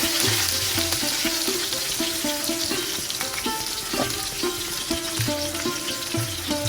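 Steady crackling sizzle of spiced barracuda pieces frying in oil in a pan, continuous and close, with light background music running beneath.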